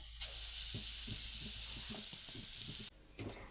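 Grated coconut fries in a spoonful of ghee in a pan, a steady close sizzle broken by light scraping stir taps, with a brief drop in the hiss near the end.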